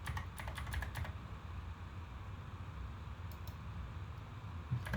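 Computer keyboard typing, with quick clusters of keystrokes at the start and a few more near the end, faint over a steady background hiss.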